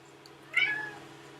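A single cat meow, close and fairly clear, rising and trailing off over steady low background hum with no talk.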